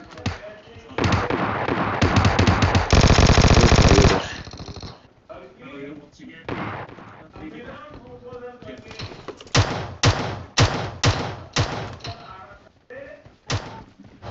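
Gunfire in the PUBG Mobile video game, a dense burst of automatic fire followed by sharp single shots and short volleys, with excited voices talking over the game audio.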